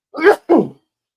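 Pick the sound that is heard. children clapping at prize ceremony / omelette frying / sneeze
sneeze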